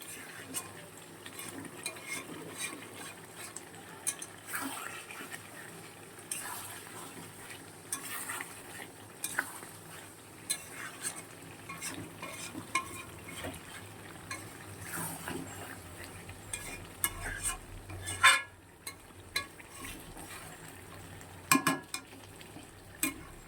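Curry being stir-fried in a pan, a steady soft sizzle with repeated scraping and clinking of a spoon against the metal, close and fairly quiet, with occasional louder knocks.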